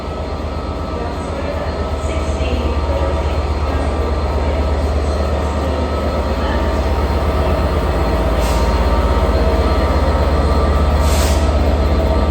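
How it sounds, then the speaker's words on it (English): A Class 67 diesel locomotive rumbles loudly nearby, with a deep engine drone and rolling wheel noise building steadily, and no talking. "there is a Class 67 set here"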